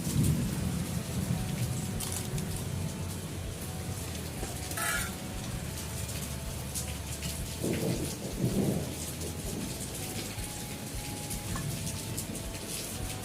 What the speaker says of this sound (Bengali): বাইরে কিন্তু প্রচুর পরিমাণে বৃষ্টি হচ্ছে দেখতেই পাচ্ছ